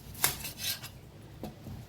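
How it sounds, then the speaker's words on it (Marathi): A knife slicing a peeled, washed onion lengthwise on a board, heard as a few brief, sharp cutting taps with light scraping between them, close and moderately quiet, with no talking. "तर आता कांदा आपण कापून घ्यायचा आहे।"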